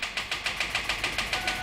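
A car engine on a cold winter morning tries to start on a dead battery, giving a weak, rapid, evenly spaced clicking-chugging pulse, about eight beats a second, with no catch.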